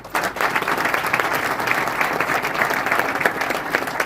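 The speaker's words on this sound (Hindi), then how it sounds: "आप अपने लिए एक बार जोरदार तालियां बजाएं" Vigorous audience applause at an indoor product talk, dense close clapping held at an even loud level throughout.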